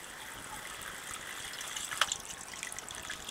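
A quiet, steady trickle of water running from a tap in a van, turned down to a lower flow, with a small splash partway through, soft and close.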